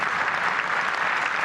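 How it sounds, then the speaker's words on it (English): A concert audience applauds a student symphonic orchestra, with dense, even clapping from many hands throughout, moderately loud and close. "big round of applause for the students on that one"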